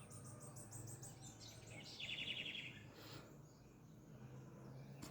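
At dawn, a hawk perched on an antenna gives a brief, sharp chattering call amid quieter bird chirps and insect buzz, moderately distant and faint.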